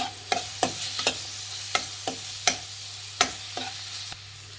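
Chopped vegetables and carrot are stirred in a pan, a spoon clacking sharply against the metal every half second or so over a soft sizzle and a low steady hum.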